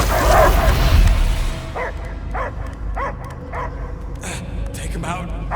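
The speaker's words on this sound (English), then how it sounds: "I hear only barking." A dog in the game Guardians of the Galaxy gives a run of short barks and yips, about eight evenly spaced and fairly close, after a low rumble at the start, with a voice partly over the barks.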